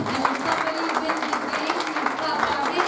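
Congregation at a francophone revival service in Bathurst clapping hands together, a dense steady patter of many hands with crowd noise and voices mixed in throughout.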